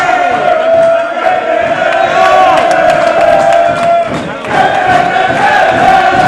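A crowd at a pool shootout in a Players Lounge in Atherton cheers and shouts loudly and continuously, with a brief dip before the roar picks up again.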